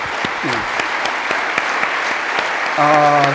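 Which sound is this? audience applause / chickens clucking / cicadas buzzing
audience applause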